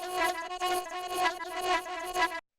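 A granular synthesizer chops a vocal sample into a jittery, glitchy stream of overlapping tonal grains that jump between notes for a couple of seconds, then stop abruptly.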